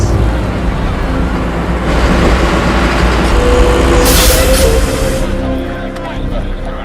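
Heavy trucks and cranes rumble loudly nearby, with a hissing air-brake release midway and a continuous low engine drone, a voice faintly mixed in.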